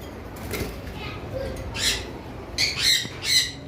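Shrill lovebird squawks burst out in short bursts over a noisy bird-farm room, several harsh calls close by with a murmur of background activity.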